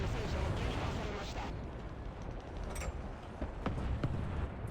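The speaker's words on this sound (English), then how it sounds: "I love this cannon. Such a good gun." Tank cannon fire in the War Thunder video game from a Chi-To Late tank, a heavy blast at the start rolling into a long rumbling decay, followed by fainter distant booms and clanks.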